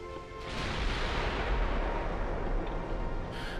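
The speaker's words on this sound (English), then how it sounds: "Plunging fire, that's the one, because it's hitting our deck." Heavy naval gunfire in Ultimate Admiral Dreadnoughts, with plunging shells striking a warship's deck: a loud, sustained rumbling roar of broadband blasts and low booms that swells early and holds steady before easing slightly.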